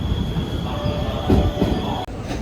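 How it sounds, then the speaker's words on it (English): Steady rumble and hum of a train pulling into Nara station, with a high tonal whine and faint squeals, loud and close, no voices. "The train has just arrived."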